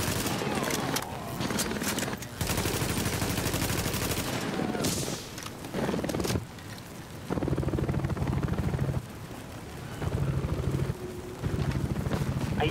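Gunfire in The Division video game, rapid automatic bursts and repeated volleys in several stretches with short pauses between, mixed with voices and game sounds throughout.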